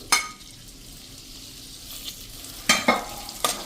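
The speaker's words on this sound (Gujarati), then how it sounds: "તો આપણું તેલ પણ ગરમ થઈ ગયું છે। તો હવે આપણે આ સમારેલો ભીંડો આમાં નાખી દેશું" Chopped okra hits hot oil in a pan for a Gujarati curry, sharp sizzling bursts with spoon scrapes marking each addition over a low crackling background.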